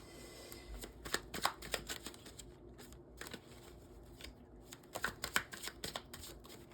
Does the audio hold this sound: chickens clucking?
no